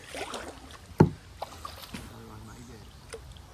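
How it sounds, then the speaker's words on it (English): A kayak paddled one-armed on the Weeki Wachee River gives close watery splashes and paddle strokes, with one sharp knock near the start, while people talk nearby. "One arm paddling."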